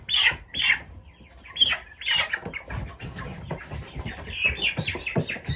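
Meat chickens being moved into pasture pens squawk and cluck in agitated bursts, with sharp shrill cries over lower scratchy shuffling and flapping, close and fairly loud throughout.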